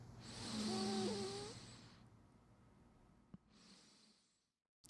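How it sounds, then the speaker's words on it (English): A person draws a long, audible breath in through the nose, rising to a breathy, partly voiced peak and tapering off, followed by a quieter second inhale before silence. "take an inhalation through the nose"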